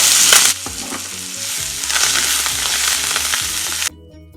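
Crushed onion, ginger, garlic and curry leaves fry loudly in a pan, a dense sizzle with stirring, a brief change near the start and an abrupt stop just before the end.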